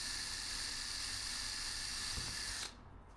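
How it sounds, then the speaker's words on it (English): A steady high-pitched power drill whine runs continuously while drilling pilot holes in wood, then cuts off abruptly near the end, leaving a quieter background hum. "I'm just drilling some pilot holes now."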